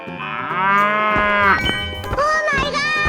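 Cartoon cow giving a long, loud, drawn-out moo with a clear tone, followed by shorter lowing calls and light chimes over background music.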